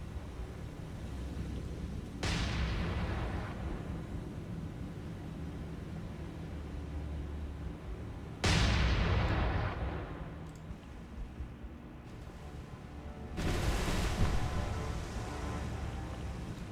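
Naval gunfire from warships in War on the Sea: three heavy booms at spaced intervals, each a sudden broadband blast that decays into a rumbling wash over a steady background hiss.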